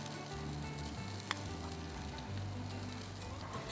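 Fresh grated coconut sizzling in hot coconut oil in a Kerala home kitchen, a steady, even crackling fry close by with one sharp tick partway through and no talking.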